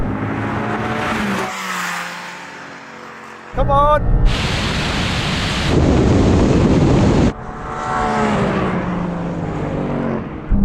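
Loud engines roar at full revs as a Ford Mustang and a Porsche Cayman race past, with a voice talking over the start and end of the run.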